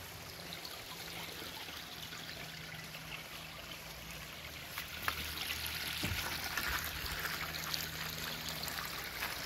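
Water leaks and trickles from a water tank in a steady, continuous splashing stream, fairly close, with a faint low hum beneath and no one talking.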